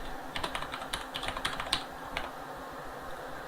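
Typing on a computer keyboard, a quick irregular run of close, light key clicks at a steady desk level, with no voice over it.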